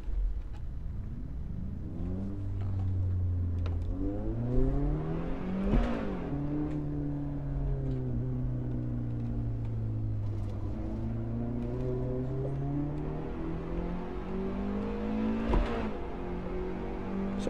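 In a racing video game on the Spa circuit, a race car engine drones steadily through the run, its pitch climbing and dropping with repeated gear changes and revving, continuous and unbroken.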